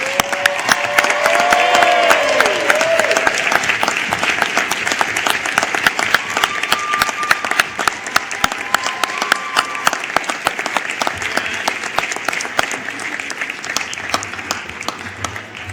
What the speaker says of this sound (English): you thank them with a big round of applause